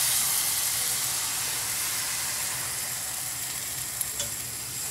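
Oat cake batter sizzles steadily in a greased pan, a continuous close hiss of frying with no talk over it.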